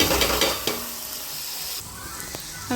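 Onions fry in oil in a pan while chopped tomatoes are added and stirred, giving a steady close sizzle broken by a few metallic scrapes and clinks of a spoon against the pan.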